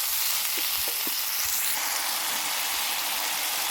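Spice paste of turmeric, cumin and salt frying in hot oil for pointed gourd tel jhal gives a steady, close sizzling hiss, with a few soft low knocks from stirring early on.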